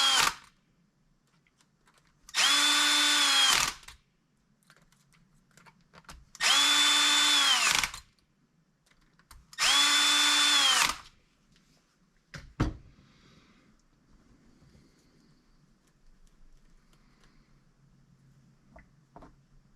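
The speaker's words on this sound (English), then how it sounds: "I'll run these in with my driver once I get them started." A power driver runs Treal parts into a Vanquish axle in three separate, evenly spaced whirring bursts of about a second and a half each, close and loud, with quiet pauses and a few faint clicks between.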